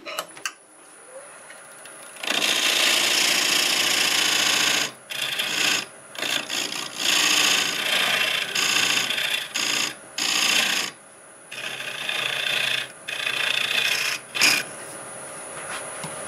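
A wood lathe tool cuts a dovetail into a spinning black locust blank, giving loud, harsh scraping in sustained bursts broken by short pauses as the cutter is lifted away and reapplied.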